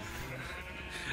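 Sheep bleat in the video game Minecraft, a faint, low-level bleating layered over steady background sound with no clear talking.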